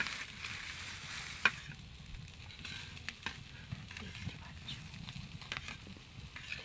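Lote (Bombay duck) fish, salted and coated in turmeric, fries in a pan with a low, steady sizzle broken by small pops and occasional spatula taps.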